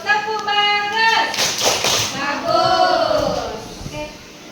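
Schoolchildren in class clap a rhythmic 'tepuk bagus' chant, quick taps mixed with children's voices and a teacher speaking over the clapping.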